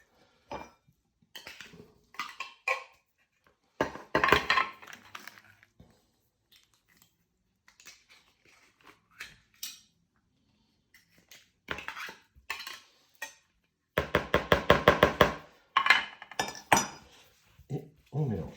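A utensil stirs a sardine and oil dog-biscuit mixture in a bowl, bursts of clinking and scraping against the bowl separated by quiet pauses, close and fairly loud, with a few faint voice sounds.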